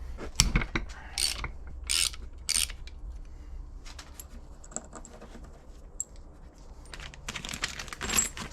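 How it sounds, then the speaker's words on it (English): Set screw and detent ball being worked out of a Land Rover LT230 transfer case: scattered close metallic clicks and ratcheting taps in short bursts, with quieter gaps between. "we got to pull this another set screw out with a detent ball"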